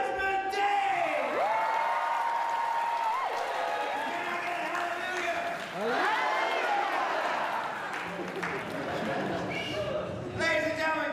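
An audience at a circus show claps and cheers, a broad wash of crowd noise with whoops, while a loud voice calls out over it through a sound system.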